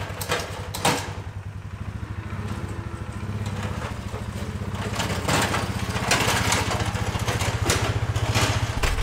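A quad ATV fitted with a front blade and winch, used to push back maize, runs with a steady, moderately loud engine drone that builds slightly, punctuated by occasional clanks and scrapes.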